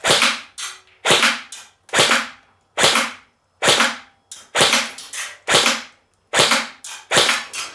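An Umarex VFC Heckler & Koch HK416C V2 airsoft electric rifle fires eleven sharp, close single shots at a target in a roughly even rhythm, each crack trailing off briefly, with no talking.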